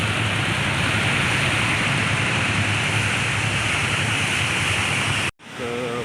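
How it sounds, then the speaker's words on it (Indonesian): Flood-control water pump at a retention basin in Palembang pumping standing rainwater, a loud steady broadband rush of water and machinery that continues unbroken before cutting out abruptly near the end. "mesin pompa di retensi depan Iban ini sedang bekerja memompa genangan air hujan"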